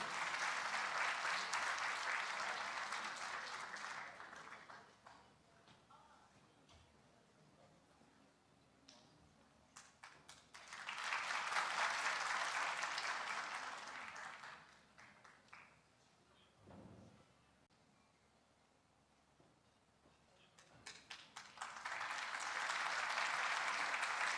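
Applause fills a hall as performers are welcomed to the stage, rising in three separate waves of clapping with quieter gaps between, where scattered claps and soft room noise remain.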